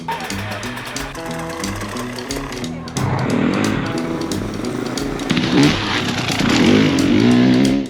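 Motorcycles racing at the Perry Mountain 24-hour motorcycle race in Alabama, a steady loud engine drone with layered revving that grows louder and busier toward the end, with voices mixed in.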